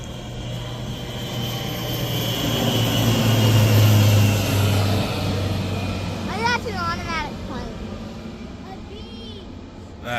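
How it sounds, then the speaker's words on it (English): Low-flying propeller airplane passing over a cornfield, a steady engine drone building to a loud peak mid-clip and then easing away, with birdsong chirps and outdoor background noise. "So that plane is working his way to the west across the cornfield down there"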